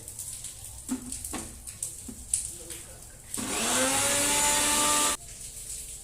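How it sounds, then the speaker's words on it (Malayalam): Short clicks and knocks, then an old electric mixer grinder whirs loudly and steadily for about two seconds before cutting off abruptly. "ഇതൊന്ന് ഞാൻ കറക്കിക്കൊണ്ട് വയ്ക്കാം മിക്സിയിലിട്ടാണ്."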